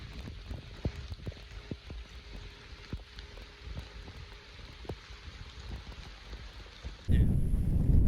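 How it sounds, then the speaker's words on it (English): Rain falls steadily across open prairie with scattered soft drops and low rumbling, fairly faint and continuous, then a louder, closer wash of noise takes over near the end. "And then it's raining right now."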